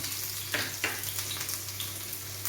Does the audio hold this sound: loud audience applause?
no